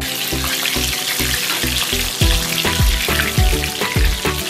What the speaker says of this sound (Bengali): এক এক করে দিয়ে ভেজে নেব আমাদের অনথন।